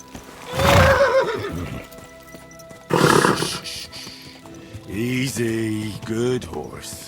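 A horse whinnies loudly up close in the video game Kingdom Come: Deliverance II, a shrill, wavering call, followed by further neighs and snorts, with some speech mixed in.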